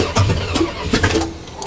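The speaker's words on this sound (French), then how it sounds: "je vais laisser le démarreur se reposer" The starter motor of a 1975 Chrysler New Yorker cranks in a brief, steady, grinding churn with a few uneven pulses, heard up close and without any speech.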